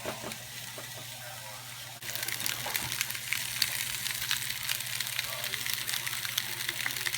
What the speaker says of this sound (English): then you put your meat in. You should hear a sizzle right away.